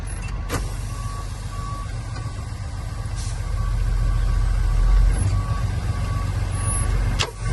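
A truck with a trailer idles with a loud, steady low diesel rumble during a parking brake test. The engine swells and strains for a few seconds as the rig pulls against the brake, with faint clicks and a short hiss near the end.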